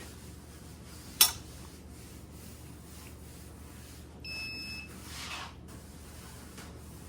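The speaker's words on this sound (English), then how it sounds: "You check for continuity with the beep." A short electronic beep from a multimeter continuity test on an Electrolux speed oven's fuse, two steady tones held for under a second, sounds over a quiet room hiss, preceded by a sharp click.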